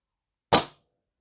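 A single close, sharp crack from a Crosman 1322 air pistol firing while dieseling. The short, loud report decays quickly into silence.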